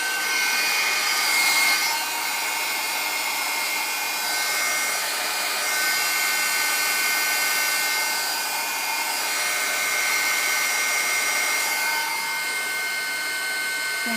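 A handheld hair dryer blows steadily on a freshly made blue craft piece, a continuous whooshing hum lasting throughout with only slight dips in level, close and fairly loud.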